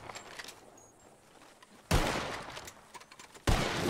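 Gunfire in the video game Red Dead Redemption 2, with distant scattered pops followed by two sudden loud close blasts, each trailing into a noisy rumbling decay.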